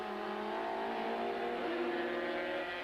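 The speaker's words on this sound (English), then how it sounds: "It takes enormous skill and powers of concentration for Moss, van der Merwe and Wyndham to maintain this sort of pace in these conditions." Touring cars race at Kyalami circuit in the 1995 South African Super Touring Car Championship, their engines howling loudly and steadily, with pitch shifting as a car changes gear or passes.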